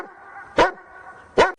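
Two sharp, loud dog barks about a second apart ring out over a steady droning background tone in a residential neighbourhood.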